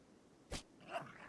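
A Yorkshire Terrier being shot in the Rimworld video game gives one short, sharp yelp, then a fainter whimpering cry just after, heard alone at low level.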